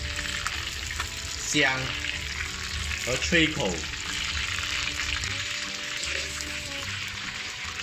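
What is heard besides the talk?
threadfin fish pan-frying slowly in oil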